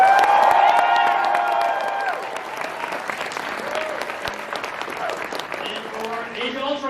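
Audience at a Los Angeles Comic Con Marvel panel applauds and cheers for Ant-Man, a loud sustained crowd roar of clapping with whoops that eases slightly but continues throughout.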